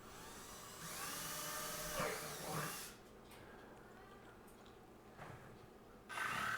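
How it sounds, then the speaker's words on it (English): A power drill bores a pilot hole through the wall of a plastic 5-gallon bucket, whining steadily for about two seconds with a pitch shift as the bit cuts, then dropping to quieter handling noise before the motor briefly spins up again. "I'm making a pilot hole here."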